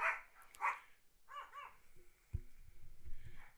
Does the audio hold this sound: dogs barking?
yes